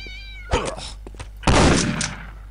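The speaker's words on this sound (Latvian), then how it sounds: "Mutagēnie kaķi." Mutant cats in the Postal 2 video game let out harsh yowling caterwauls, two loud bursts close by, the second longer and rougher, with no talking over them.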